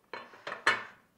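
Apples dropped into small dishes, three quick hard knocks in succession, close and clear with no talking.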